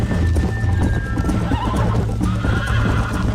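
A horse in the Red Dead Redemption video game gallops with rapid clip-clop hoofbeats and lets out a neigh, loud and close, layered over steady game sound.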